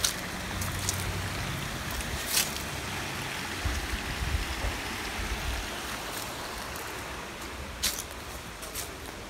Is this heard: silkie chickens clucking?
no